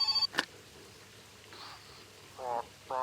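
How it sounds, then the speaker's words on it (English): A telephone ringing in the My Summer Car video game, a short electronic ring tone heard a couple of times, soft and somewhat distant, with a person talking around it. "Why does the phone have to ring when I'm soaking wet?"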